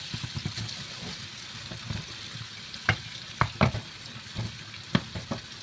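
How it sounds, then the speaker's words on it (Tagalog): A pork chop frying in a pan makes a soft sizzle broken by occasional sharp clinks and scrapes from a utensil, close but fairly quiet. "Konting fry lang to guys"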